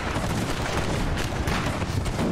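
Artillery and massed musket fire in Napoleon: Total War battle, a dense continuous crackling roar of distant volleys and booms, steady and moderately loud throughout with no talk.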